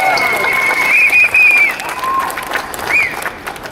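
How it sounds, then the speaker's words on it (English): An audience at an IDAHOBIT event in Nottingham gives a round of applause, a brief burst of clapping heard beneath a voice and a tonal whistle-like sound. "So a big round of applause again, I think,"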